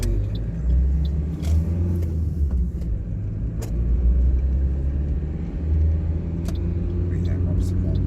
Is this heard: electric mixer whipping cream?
no